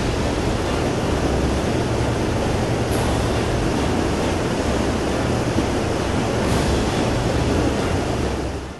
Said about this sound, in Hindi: नदी का बहाव आप देख सकते हैं कितना तेज है और उससे भी ज्यादा डराने वाली है इस नदी के बहने की आवाज